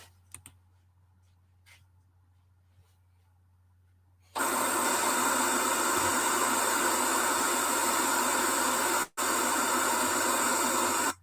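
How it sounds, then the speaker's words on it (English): After a few seconds of near silence, a steady, loud broadband hiss of pink noise starts, breaks off briefly, then resumes. "Here's 10 seconds of pink noise."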